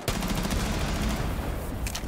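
Rapid gunfire from Rainbow Six Siege rattles in a fast burst of closely spaced shots, fairly loud and continuous for a couple of seconds, with a few sharper cracks near the end.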